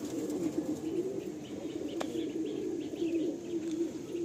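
Kalojiria napta pigeons kept for sale coo softly in a low repeated murmur, with a single sharp click partway through and no talking.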